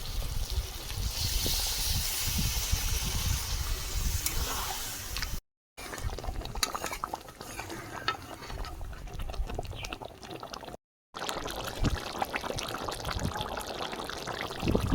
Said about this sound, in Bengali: বাটিটা ধুয়ে জল দিচ্ছি